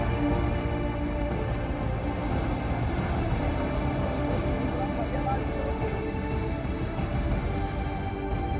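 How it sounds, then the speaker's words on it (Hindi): Heavy monsoon rain pours steadily in flood-hit central and western India, a dense, even hiss with a low rumble running throughout at constant loudness, with no pauses. "एमपी से गुजरात, बारिश का उत्पात।"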